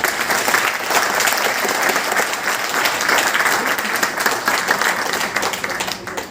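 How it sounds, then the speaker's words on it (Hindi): A crowd applauds at a business plan presentation, sustained, even clapping that carries on for several seconds before easing slightly at the close. "तो तालियां होनी चाहिए।"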